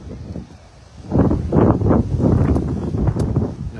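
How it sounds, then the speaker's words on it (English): Strong wind gusts buffet the microphone outdoors at a live ring event, rising suddenly after a quieter start into loud, sustained roaring bursts. "That wind's just come at a bad time."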